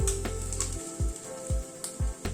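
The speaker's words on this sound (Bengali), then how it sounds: "সেই জন্য পেঁয়াজটা ভাজার সময় কিন্তু একটু গ্যাসের ফ্লেমটাকে মিডিয়ামে রেখে পেঁয়াজটা ভাজলে পরে ঠিকঠাক মতো ভাজা হয়।" Onions frying in a pan over a medium gas flame give a steady close sizzle, broken by a few soft rhythmic thumps of stirring or tapping.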